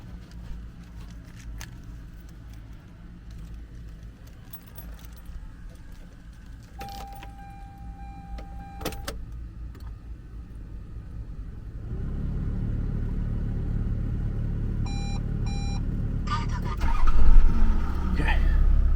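A 1995 Toyota Land Cruiser 80 Series with a 1HD-FT turbo diesel being started while parked, with keys jangling and cabin rustling at first, then a deep idle rumble that builds and swells up close, with someone talking over it.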